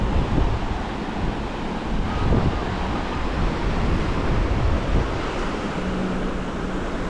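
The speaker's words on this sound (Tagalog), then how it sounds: "kasi yung buhangin pag sumasalpok yung alon, sumasama yung buhangin" Ocean waves surge and wash onto a sandy east-coast beach, stirring up sand in a steady, broad roar mixed with wind buffeting the microphone, continuous and fairly close throughout.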